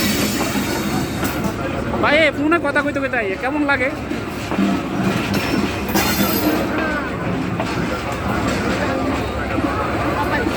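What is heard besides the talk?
train arriving at a station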